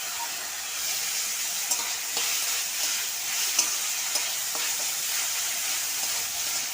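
Spicy noodles with capsicum and tomato stirred in a hot pan, a steady bright sizzle and frying hiss with soft scrapes of the spatula, close and continuous with no talking.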